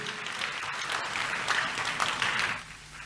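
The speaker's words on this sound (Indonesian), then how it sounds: "Tepuk tangan buat Tuhan kita Yesus." A church congregation claps together in a sustained burst of applause during a sermon, fairly loud and even, tapering off near the end.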